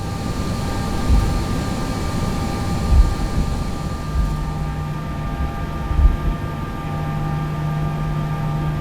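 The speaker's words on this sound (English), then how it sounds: "As criterion I chose the behavior of the JAR A320 during takeoff without extended flaps" A simulated JAR A320 airliner rolls for takeoff with flaps retracted, its engines giving a steady, dense roar with a faint whine and low rumble, holding constant and alone throughout.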